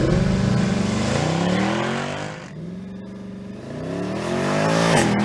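A black Mercedes-Benz C63 AMG coupe launches hard from a brake-held standstill, its engine roaring as it accelerates with a clear upshift break midway and then climbing again, loud and close.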